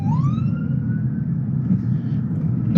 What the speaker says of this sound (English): It's an ambulance.